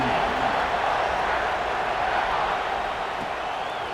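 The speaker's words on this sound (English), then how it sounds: "this crowd now ready to get behind them" A stadium crowd roars in an NCAA 26 college football game, Indiana against Ohio State, with a dense, steady wash of cheering that stays loud and continuous throughout.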